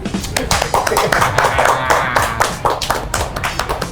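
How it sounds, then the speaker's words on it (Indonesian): A small group claps steadily in a ramen restaurant in South Jakarta, a brisk patter of hands lasting several seconds, with faint voices mixed in. "Kok ada tepuk tangan ya?"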